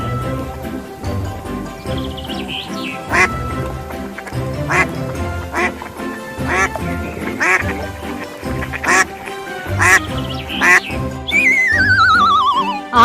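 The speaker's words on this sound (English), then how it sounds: "Q for quack." A duck quacks repeatedly in loud, close, nasal bursts against a rhythmic backing of music, ending in a descending electronic sweep.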